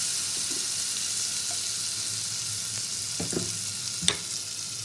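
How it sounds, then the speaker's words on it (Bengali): Butter and a little white oil sizzling in a pan before paneer is fried, a steady broadband hiss with a few soft clinks and light knocks, fairly close and alone without talk. "ফ্রাই করার জন্য প্রথমে একটু বাটার দিয়ে দেবো অল্প করে।"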